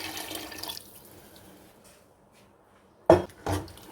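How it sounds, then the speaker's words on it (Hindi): Faint kitchen clatter fades to near quiet, then about a cup of water splashes briefly into a cooking pan in two short pours close by, while making chole. "1 कप के करीब मैं इसमें पानी डाल दूंगी"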